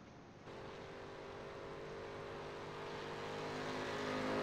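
Mustang race cars in a sim racing game at Indianapolis road course, a steady loud engine drone rising slightly in pitch as the cars accelerate, continuous with no talk.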